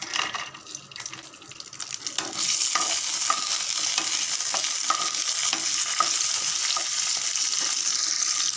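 Cashews fry in ghee with a continuous soft sizzle and crackle, joined by occasional light stirring clicks. The sizzle grows fuller and steadier after a quieter opening.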